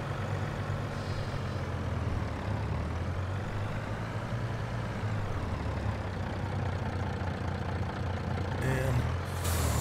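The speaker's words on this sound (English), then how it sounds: "So what we'll do is we'll pull the truck in here." A truck pulls in within Farming Simulator 22, its heavy engine rumbling steadily throughout, with a short air-brake hiss near the end; a person talks over it.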